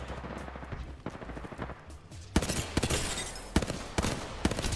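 Loud, rapid bursts of gunfire in Apex Legends, fired with the spacebar as the shoot key, with sharp repeated shots cracking hardest in the second half over steady game background noise.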